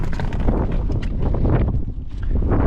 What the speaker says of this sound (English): Really windy out here. I don't know how the audio is going to be. Apologize for wind noise.